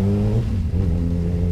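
A Kawasaki ZX10R sport motorcycle revs loudly up close, its engine holding a strong, steady drone that dips briefly and then climbs again.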